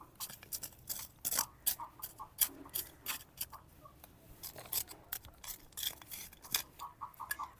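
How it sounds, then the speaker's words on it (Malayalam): A hand tool chops and loosens soil around brinjal plants in a garden bed, giving quiet, irregular scraping and crunching strikes, close but faint, with no talking. "അതിനായിട്ട് മണ്ണ് നന്നായിട്ട് കൊത്തി ഇളക്കുക."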